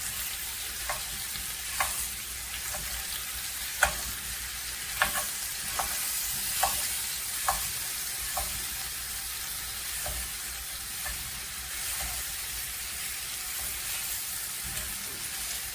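Pound of sausage and six or seven slices of bacon sizzling in a pan with a steady hiss, punctuated by repeated scraping clicks of a utensil stirring at irregular intervals, close and moderately quiet.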